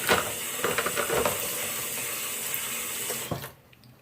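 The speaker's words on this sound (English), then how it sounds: "I run the water in so that it's at a point where it fills all of the brushes" Water runs from a tap into a sink in a steady rushing stream, close up, filling it to submerge hair brushes, then cuts off abruptly near the end.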